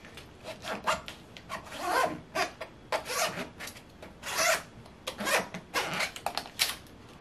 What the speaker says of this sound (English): Take my scraper and press down firmly.